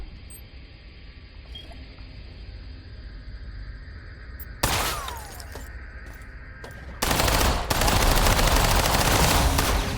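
An enemy fires laser beams in the System Shock video game: a low hum gives way to a sudden burst of harsh, crackling fire, then a louder sustained barrage that keeps going to the end.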